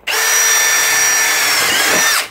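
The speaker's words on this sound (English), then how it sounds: "We're using the Dewalt drill bit because I want to test out the difference in the walking." A Dewalt drill bit bores into aluminium with a steady, loud high-pitched whine that holds for about two seconds, then winds down as it breaks through.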